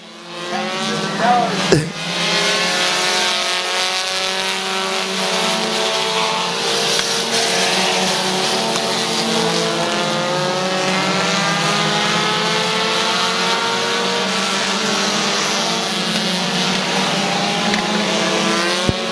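Race cars roaring around Midvale Speedway, a loud sustained engine drone with rising and falling pitch from several cars, steady throughout with a commentator talking over it.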